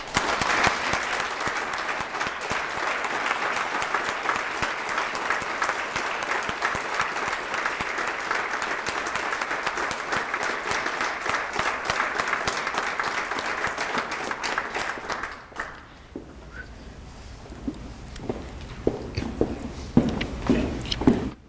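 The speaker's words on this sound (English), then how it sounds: "please join me in a round of applause for Command Sergeant Major retired Corey J." An audience applauds at an Army retirement ceremony for a Command Sergeant Major, a loud, dense burst of clapping that runs for about fifteen seconds before thinning to scattered claps and shuffling.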